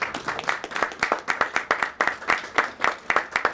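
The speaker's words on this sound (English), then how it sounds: "Let's give them a round of applause." An audience at the grand opening of Springfield Union Station's Platform C claps together in a rhythmic, fairly close round of applause, with pulses of clapping rising and falling and no speech over it.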